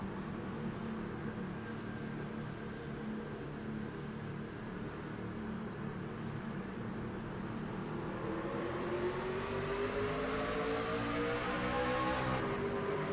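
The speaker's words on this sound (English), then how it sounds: "Let's ride inside the cockpit here and listen to the engine of George Rancon" In a sim racing game, a race car engine drones from inside the cockpit, a steady loud hum that climbs in pitch toward the end as the car accelerates, with no talking.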